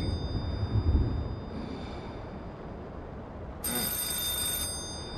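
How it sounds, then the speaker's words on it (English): A telephone rings in the horror video game Five Nights at Treasure Island, a single bright electronic ring near the end after a stretch of low ambient rumble and hum, with no talking. "I don't want to answer the phone"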